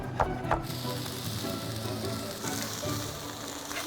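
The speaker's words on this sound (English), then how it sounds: "I'm gonna put the soy sauce in and that brown sugar. Let that kind of heat up and get a little bit reduced and kind of sticky" Soy sauce and brown sugar sizzle steadily in a hot pan, a dense continuous frying hiss with a couple of brief clatters at the start.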